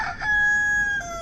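A rooster crows on a small farm that also keeps rams and pigs, one loud, close, sustained cock-a-doodle-doo lasting about a second, heard alone with no talk over it.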